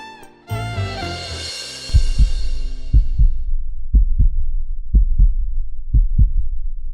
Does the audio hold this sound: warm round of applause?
no